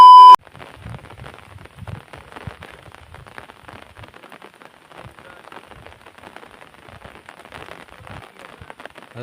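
Light monsoon rain falling in a forest near a village makes a steady, dense patter of drops, close and moderately loud, after a brief electronic tone at the very start.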